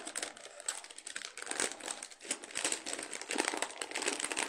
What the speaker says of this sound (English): Very crinkly, sorry about that.